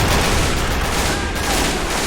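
Dense, continuous battlefield gunfire from the World War II strategy game Men of War: Assault Squad 2, with overlapping rifle and machine-gun bursts merging into a loud, unbroken roar during a German defense of Foy in the Battle of the Bulge.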